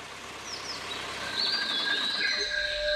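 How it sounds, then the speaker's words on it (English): Birds sing in the Kabini wildlife sanctuary near Mysore, a few clear whistled and chirping phrases rising over a soft ambient hiss, moderately close and unaccompanied by speech. "Did you hear the music of the bird song?"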